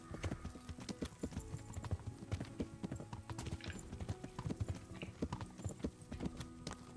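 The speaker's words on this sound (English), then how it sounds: "It's a horse, god damn it." A horse gallops in Kingdom Come Deliverance, its hooves striking in a rapid, uneven clip-clop that runs through the whole stretch at close range, with no one speaking.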